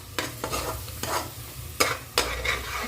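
Biryani masala with sour yogurt frying in a pan, a low constant sizzle broken by several sharp scraping strokes of a ladle, close and alone without voices.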